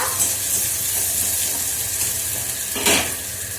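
Onions frying in a pan for aloo chokha, a dense, loud, continuous sizzle with a brief surge of hiss near the end, heard close with no talking.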